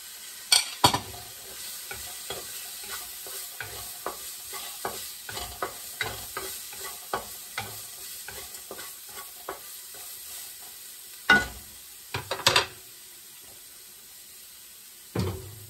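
Clams fry in a pan, a steady sizzle running throughout beneath rhythmic scraping and clinking of a utensil stirring, with a few louder knocks.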